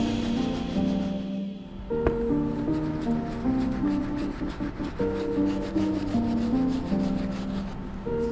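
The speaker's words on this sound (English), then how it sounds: "We're gonna use this brush to attack the upper so it can start breaking down all the grime." Soft bristle brush scrubbing the leather upper of an Air Jordan 1 Royal, a close, steady rubbing with short repeated strokes, alongside a faint tonal hum in the background.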